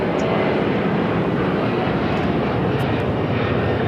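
A Boeing 777 landing at LAX, a loud, steady, broadband jet engine roar held close and constant throughout, with no voices over it.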